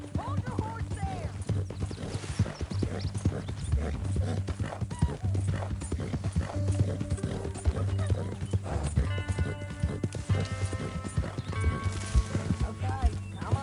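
Horse hooves clip-clop steadily in Red Dead Redemption 2, a continuous rhythmic trot of moderate loudness running under game dialogue throughout.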